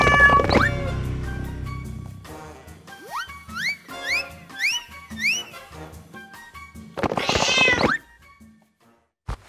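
A cartoon cat in an animated dinosaur world meows repeatedly in rising, expressive calls, loud and close, with a longer strained caterwaul near the end before things fall quiet.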